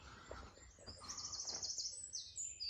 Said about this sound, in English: Plenty of bird song.